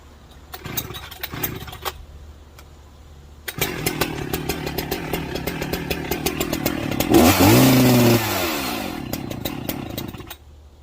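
A Husqvarna chainsaw with a carburetor fault is pulled over a couple of times, then fires and runs loudly, its rattly idle rising into a brief rev before dropping back and cutting out.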